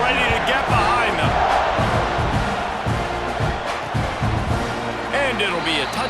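A stadium crowd in College Football 26 roars and cheers steadily before kickoff, a dense, loud wash of voices with a commentator talking over it.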